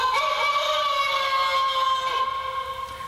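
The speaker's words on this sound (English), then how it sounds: "So when you need a wake up in the morning, you hit the rooster." A keyboard's rooster crow sound effect plays as a sustained, bright, harmonic call lasting about three seconds, clear and alone at moderate loudness.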